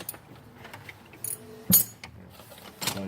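Close metallic clicks and ratcheting from a wrench on a bolt during an onboard air install, with scattered tool handling and one sharp clank near the middle.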